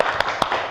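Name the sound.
class doing the 'tepuk salut' rhythmic clap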